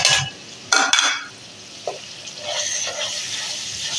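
Tomatoes and spices for besan gatte sabji fry and get stirred in a pan, with a couple of sharp spoon clatters near the start before settling into a steady, soft sizzle.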